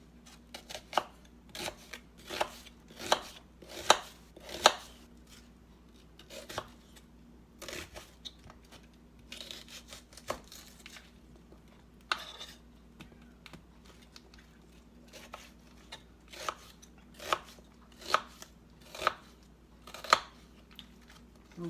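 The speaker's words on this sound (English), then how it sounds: "Cut up your onion." Onion being chopped with a knife on a cutting board, a series of sharp close taps in irregular bursts over quiet background hum.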